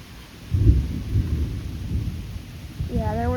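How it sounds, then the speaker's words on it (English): Deep rumbling thunder from a large lightning bolt rolls through a crazy July thunderstorm, loud and sustained, with rain hissing steadily underneath. "there's the thunder from that big bolt"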